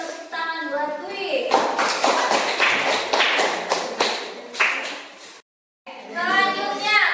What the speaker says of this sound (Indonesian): kita kasih tepuk tangan buat Dwi.